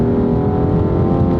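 A Rolls Royce Wraith drives and accelerates, its engine a loud, close, continuous hum with a steady tone throughout the short stretch.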